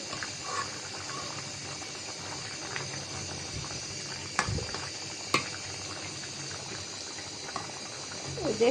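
A pot of taro, lentil and chicken bone curry bubbles steadily at a low, even simmer, a soft continuous burble with a couple of sharp ticks and clinks breaking through.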